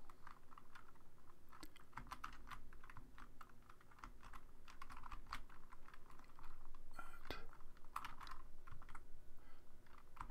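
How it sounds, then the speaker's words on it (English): Rapid, continuous keystrokes on a computer keyboard as an email address is typed into a web form, close and steady with no speech over it. "But if I try and type the email"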